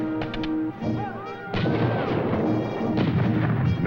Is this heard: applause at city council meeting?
no